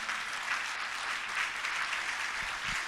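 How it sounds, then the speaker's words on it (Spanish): Church congregation applauding, a dense, sustained clapping that fills the room evenly and holds steady throughout. "Denle una ofrenda de palmas al Rey."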